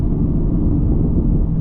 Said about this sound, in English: y'all can probably hear it sucking air on the downshifts